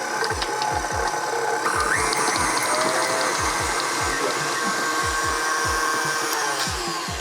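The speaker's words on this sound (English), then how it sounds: "I'm popping it in my stand mixer, and I'm just going to mix my butter" A stand mixer beats butter for cupcake icing: a steady motor whir runs throughout with regular low knocks from the beater, close and fairly loud, with no talking.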